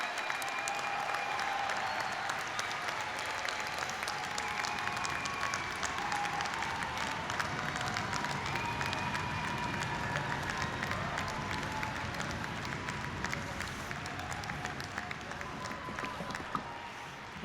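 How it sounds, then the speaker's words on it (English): At a business school commencement, a large audience keeps up sustained applause for the graduates, a dense, continuous patter of many hands that holds steady and fairly distant throughout. "I would like everybody in the audience to give a round of applause to the graduates and for their outstanding work."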